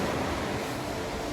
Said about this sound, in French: À la fenêtre de notre chambre, on entend le ressac.